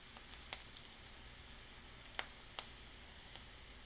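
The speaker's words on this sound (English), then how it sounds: "to low heat because we want to slowly saute these mushrooms" Chanterelle mushrooms with thyme leaves sauté gently in a pan over low heat, a soft steady sizzle with a few faint pops and clicks scattered through it.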